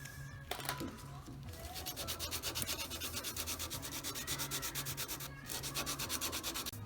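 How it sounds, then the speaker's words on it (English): Close-up hand sanding with 320-grit paper on a repaired car trunk key hole, steady rapid back-and-forth rasping strokes in an even rhythm. "You're gonna have to sand it like this on each side, using this as a reference."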